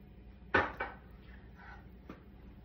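Chopped onions and garlic dropped together into a pan already slicked with sesame oil, giving two close, quick thuds followed by a fainter tap in a quiet kitchen.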